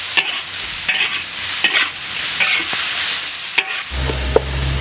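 Fuzzy melon and beef stir-fry in a wok with chili peppers, giving a loud, close sizzle broken by repeated scraping strokes of the spatula, with a low hum entering near the end.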